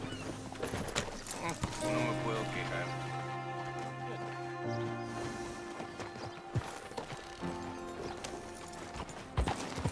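Horse hooves clip-clop steadily in Red Dead Redemption 2 while the rider travels, a rhythmic trotting beat running throughout beneath game music and occasional character talk.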